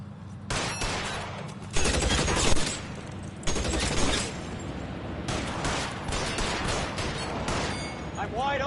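Gunfight in the L.A. Noire video game: repeated gunshots and rapid bursts crack out in loud clusters with short gaps between them, with voices shouting amid the shooting.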